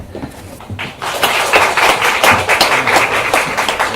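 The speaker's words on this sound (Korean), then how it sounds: "박수 나겠습니다" A conference audience claps steadily, building up after a moment into sustained applause that stays even and fairly loud until the end.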